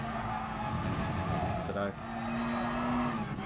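Race car engine droning and tires squealing in a skid in the video game Gran Turismo Sport, a steady engine tone rising in pitch near the end, under a man's brief speech.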